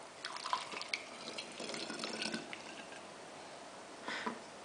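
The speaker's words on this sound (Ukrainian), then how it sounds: "Тепер ми заливаємо кип'яток." Freshly boiled water is poured into a glass jar while preparing chicken roasted on a jar, a close, continuous liquid splashing with brief dripping spurts and no voices.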